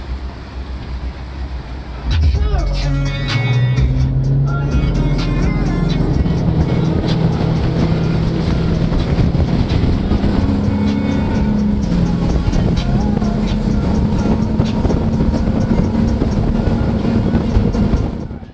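A 34-foot Freeman boat motors in toward a dock, a loud, steady engine drone with rushing water and clattering noise around it and no clear speech.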